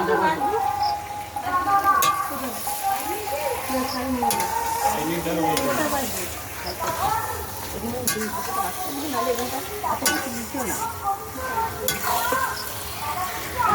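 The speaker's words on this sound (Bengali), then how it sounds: "মশলাটা কষানো হয়ে গেছে, এখন মাংসটা তুলে দিচ্ছে" Goat mutton is stirred into fried spice masala in a home village kitchen: rhythmic scraping of a spoon against the pot over a continuous sizzle, with people talking through it.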